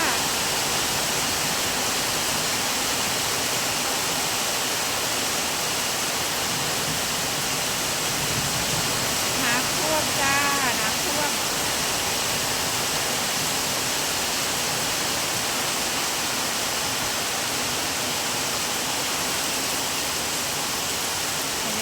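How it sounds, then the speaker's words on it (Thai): Heavy rain pours down hard enough to flood, a loud unbroken hiss that fills the whole stretch, with a faint voice briefly audible beneath it. "ตกหนักมากเลย"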